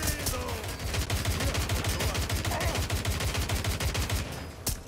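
Sustained automatic gunfire fires at the player in Watch Dogs Legion, a rapid, steady stream of shots lasting several seconds, loud and close with no speech over it.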